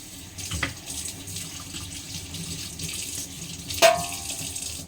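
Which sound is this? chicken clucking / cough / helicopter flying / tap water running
tap water running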